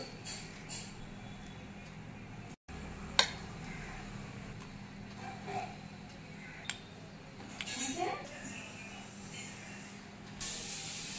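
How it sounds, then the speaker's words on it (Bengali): Akhni biryani is spooned from a cooking pot onto a plate, with soft scraping and light clinks of a serving utensil against metal and dishes recurring at close range. "এবার আমি প্লেটে উঠিয়ে দেখাচ্ছি। এবার আমি ঢেলে নিচ্ছি।"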